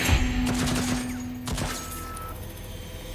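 Enemy gunfire in the video game Deathloop, a loud burst of rapid shots at the start, followed by a further crack and scattered firing that fades.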